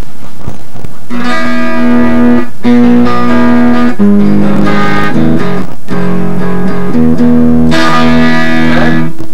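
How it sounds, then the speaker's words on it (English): Clean electric guitar chords without distortion are strummed and left ringing, with several chord changes at an even, unhurried pace and no talking. "turn the distortion off so you can hear it a little better even."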